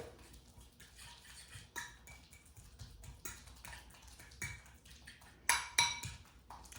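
A banana being mashed in a bowl, heard as quiet, irregular scraping and soft clinks of a utensil against the dish, with a couple of sharper knocks toward the end and no talking.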